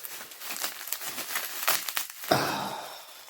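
Fan mail packaging is torn open by hand, a close run of crinkling and rustling with a sharper rip near the end.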